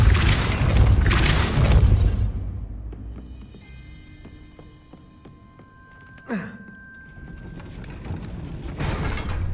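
A gate mechanism grinds and rumbles after a spell is cast in Hogwarts Legacy, heavy booms and mechanical rumbling at first, then quieter clanking, a sharp magical whoosh, and renewed rumbling near the end.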